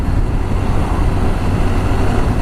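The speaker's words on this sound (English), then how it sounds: "I've witnessed a lot of torque and a very smooth engine" Honda CBR1000RR Fireblade SP motorcycle engine while riding, heard as a steady, dense drone mixed with rushing wind noise at an even loudness and no talk.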